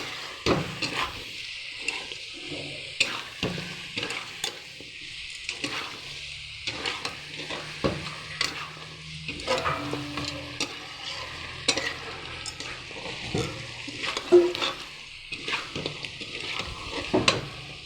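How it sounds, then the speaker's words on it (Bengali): Mutton sizzles in a pan with chili powder, stirred over and over with a utensil, giving repeated scraping and clinking over a low frying hiss, close and moderately quiet, with no speech. "একটু লঙ্কার গুঁড়ো দিয়ে দিলাম আবারও ভালো করে নাড়াচাড়া করে নিতে হবে"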